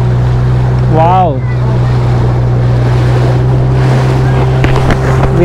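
A loud tourist boat engine drones steadily close by in Pichavaram Mangrove Forest, Tamil Nadu, with wind buffeting the microphone and water splashing; a brief whistling tone rises and falls early on.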